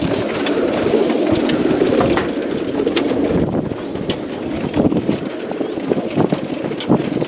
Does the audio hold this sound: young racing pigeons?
yes